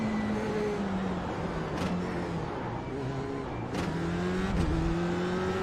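A race car engine in the iRacing simulator at Oran Park drones at a moderate level. Its pitch rises and falls as it changes gear several times, with short breaks between the shifts.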